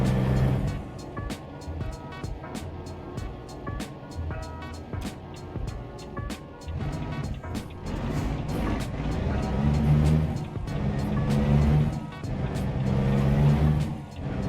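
Heavy American truck engine in the American Truck Simulator game, a loud continuous drone with low rumble and shifting revs throughout, with some talk over it.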